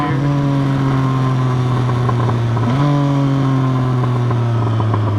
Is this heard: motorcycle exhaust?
yes